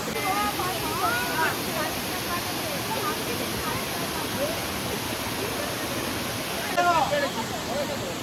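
A waterfall in the Ayodhya Hills of Purulia gives off a steady, broadband rushing roar that fills the whole stretch, while several people talk over it nearby.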